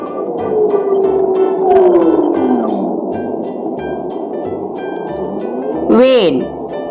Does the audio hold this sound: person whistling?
no